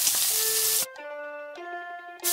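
Prawns frying in a hot pan give off a soft, steady sizzle that cuts out abruptly, leaving sustained tonal hums before the sizzle returns at the end.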